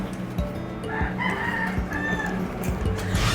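A rooster crows in repeated bursts, loud and fairly close, over a steady low background rumble with no talking.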